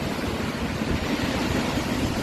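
Strong ocean waves crash and surge against a rocky shore where big boulders get pushed around, a loud continuous broadband roar of churning surf filling the whole stretch with no clear breaks.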